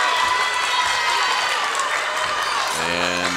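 The Puerto Rican bench applauds during a women's AmeriCup basketball game, Canada against Puerto Rico. The sound is a steady wash of clapping and crowd noise across a loud arena, with a commentator talking over it.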